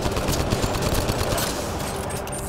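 Sustained, dense gunfire in Mass Effect Andromeda multiplayer: loud, continuous rattling rounds pour out without a break for the whole stretch.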